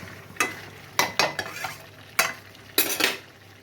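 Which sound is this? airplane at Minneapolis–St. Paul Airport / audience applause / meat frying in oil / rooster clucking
meat frying in oil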